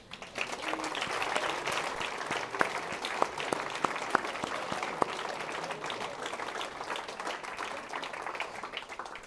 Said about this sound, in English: Come on, keep the applause going.